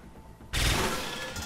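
A gunshot from the SteamWorld Heist video game bursts in suddenly after a quiet moment, a loud, sharp blast with a rattling tail.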